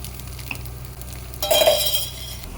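Paddu batter goes into hot oil in a paddu pan, and a soft background hiss swells into a brief, close sizzle before easing off, with no voices present.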